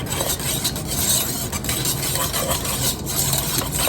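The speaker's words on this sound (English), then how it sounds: "Stir this in." A spoon stirs sour cream into a beef stroganoff sauce in a pan, giving continuous soft scraping and swishing over a faint sizzle, close and moderately quiet, with no talking.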